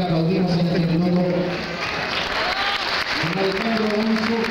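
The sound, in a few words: audience applause for the conductor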